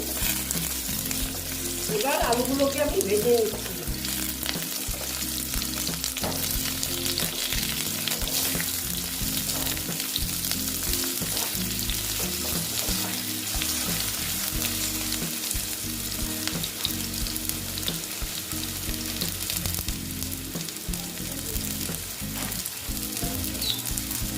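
Potatoes frying in hot oil in a pan for posto lau shak, a loud continuous sizzle that stays close and even throughout, with occasional stirring clatter and a brief sharper crackle early on.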